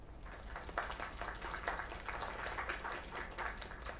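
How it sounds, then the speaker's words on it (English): Steady applause from a crowd, a continuous wash of clapping that holds at an even level throughout. "Another round of applause."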